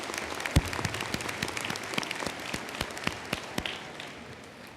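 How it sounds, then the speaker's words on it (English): Commencement audience at a university ceremony claps in a moderate, fairly sparse round of applause, individual sharp claps standing out over a softer wash that slowly fades. "Would you please give them a round of applause?"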